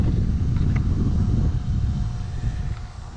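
A variable speed ECM blower motor runs wired straight to the motor with its control board bypassed, giving a steady broad whooshing hum of moving air that holds level, then eases slightly softer toward the end, with no talk.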